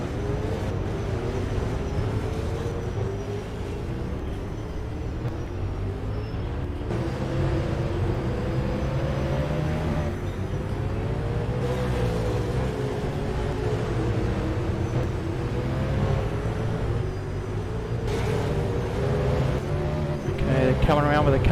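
V8 race cars circulate at Pukekohe on the run around to the grid, a steady engine drone with shifting pitch that rises and falls as cars pass, under continuous commentary.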